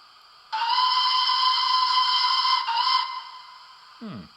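A sustained, steady whistle with a bright chord-like tone holds for about two and a half seconds, then stops; a brief falling tone follows.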